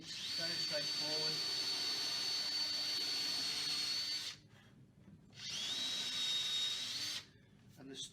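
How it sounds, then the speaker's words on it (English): A power drill boring holes during installation of a Spectra Slim Edge fitting runs loud and steady in two long bursts, with a brief pause between them and a short restart at the end. "Drilling it very straightforward."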